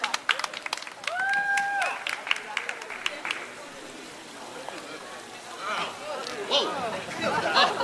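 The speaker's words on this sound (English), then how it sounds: "Let's give a round of applause, everyone." Crowd applause and cheering at an ex-offenders' rights rally, scattered claps and whoops at first, then a whistle, then a mix of clapping and voices, with people talking through it.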